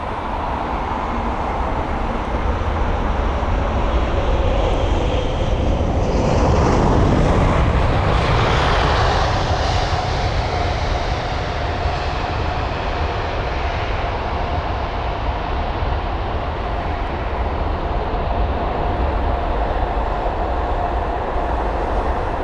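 A Qatar Airways Airbus A380 lands at London Heathrow, a loud, broad roar of jet engines that swells as the aircraft passes closest and then settles into a sustained rumble of rollout.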